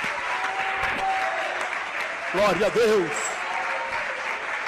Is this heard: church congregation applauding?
yes